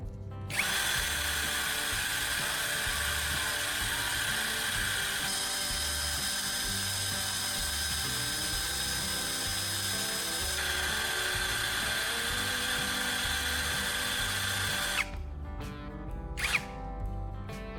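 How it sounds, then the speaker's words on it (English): Soldering tip made from a battery core, clamped in a drill and ground against sandpaper: a loud, continuous high-pitched whine holds for about fifteen seconds, then cuts off, followed by a brief spin-up. "I'll sharpen one end of the soldering tip by attaching it to a drill and grinding it"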